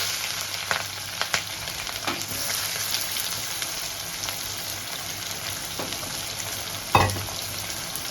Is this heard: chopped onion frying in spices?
yes